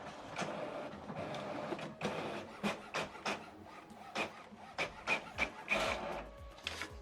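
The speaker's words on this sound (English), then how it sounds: "The second document is printing as well." HP OfficeJet Pro 9135e printer printing a document, giving a series of rhythmic mechanical swishes and clunks as the print carriage passes and paper feeds, fairly faint and without speech.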